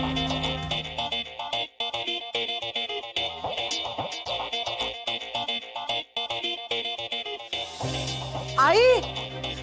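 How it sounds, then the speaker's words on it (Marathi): A mobile phone ringtone plays loudly and continuously in a home, a repeating electronic melody that carries on for several seconds before a voice briefly cuts in at the end. "आई अहो दिव्याचा फोन आहे।"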